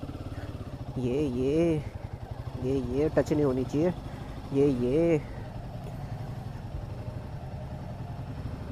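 Motorcycle engine idling close by after being put in gear, a steady low rumble running beneath someone speaking in Hindi who talks over it in short bursts.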